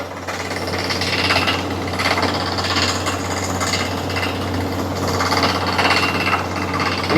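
A water well drilling rig boring into the ground, a loud continuous grinding and pounding with a steady low motor hum underneath, sustained throughout without speech.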